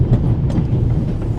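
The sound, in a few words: train carriage rumbling in The Raven video game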